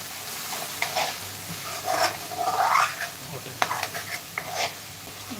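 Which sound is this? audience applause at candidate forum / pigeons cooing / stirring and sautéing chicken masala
stirring and sautéing chicken masala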